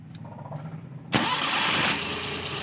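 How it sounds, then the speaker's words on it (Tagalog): A Suzuki Multicab with an F6A engine cranks briefly and catches in one go, jumping to a loud, rough idle that settles slightly lower after a moment; close by, no talking. "Randy, paandarin mo muna nga."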